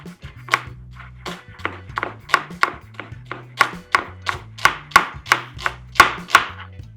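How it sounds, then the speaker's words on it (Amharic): A knife slices an onion thinly on a cutting board in steady, close, crisp taps, roughly two per second, alone with no talk. "ከላይ የምናደርገውን ሽንኩርት በስላይስ እንከትፈዋለን"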